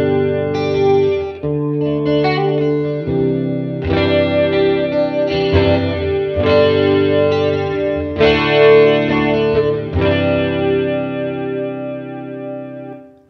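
Electric guitar played through a Fender Mustang GTX100 amplifier with chorus and plate reverb, ringing chords and notes strummed in a steady sequence, loud and up close with shimmering, lingering tails.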